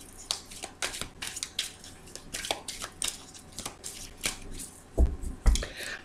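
A deck of oracle cards is handled and cut close up, giving a run of quick papery riffles and slaps with a couple of heavier thumps near the end, with no talk over it.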